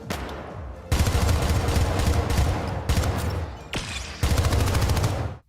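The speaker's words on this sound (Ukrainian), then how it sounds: "Постріли та черги щоразу дарують тобі легку посмішку." Gunfire from the video game Syndicate: dense, loud rapid-fire bursts of shots in several long runs, broken by brief pauses, with no talk.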